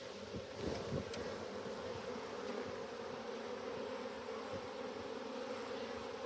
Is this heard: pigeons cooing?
no